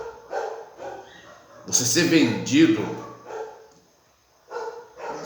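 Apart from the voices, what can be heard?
dog barking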